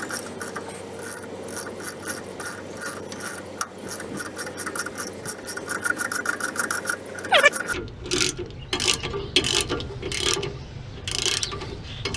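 A puller is tightened to force a stuck brake rotor off a car hub, producing rapid ratcheting clicks that continue steadily, then turn into a harsher, louder grinding run with a brief creak.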